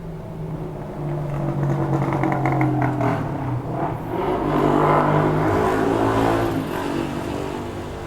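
Car engine running loud and close, its rumble climbing and easing as it revs, with steady harmonic drone and some clatter throughout, no talking.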